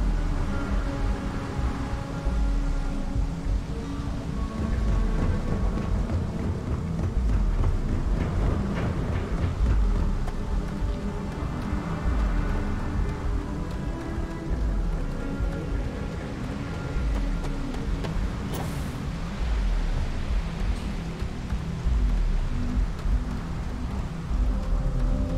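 Heavy rain pours steadily around the lightning-powered Neon city in the video game Starfield, with low rolling thunder rumbling beneath a dense, continuous hiss that stays loud throughout, no voices present.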